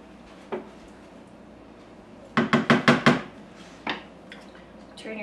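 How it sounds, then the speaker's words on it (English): Spaghetti being stirred in a cooking pot: a quick run of five scraping, clattering strokes against the pot near the middle, with a couple of lighter isolated clinks before and after against a quiet kitchen background. "Give that a good stir."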